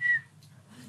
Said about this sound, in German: Kann man gar nicht mehr richtig pfeifen.